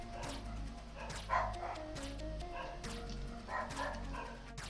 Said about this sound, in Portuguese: Cala a boca, cachorro!